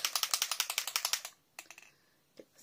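Distress Oxide spray ink bottle pumped for splatters on a mixed media scrapbook layout, a fast run of about fifteen crisp clicking sprays, then a pause and a few scattered sharper spritzes, close and alone.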